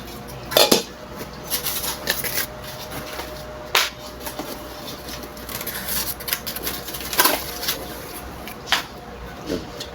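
A new cookware lid is unpacked and handled, with repeated clinks and clatters of metal and glass knocking together. The sounds come in irregular bursts, close and fairly loud, while a person talks throughout.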